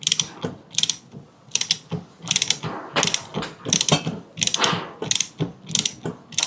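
A shock wrench ratchets repeatedly while tightening a motorcycle's rear shock absorber during a home service, giving about ten close, sharp clicking bursts in a steady back-and-forth rhythm.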